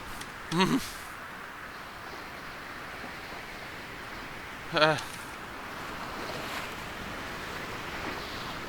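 Storm wind and ocean waves roar in the sailing video game Sailwind, a steady broad wash of surf and gusts with two brief louder splashes or creaks, and no speech.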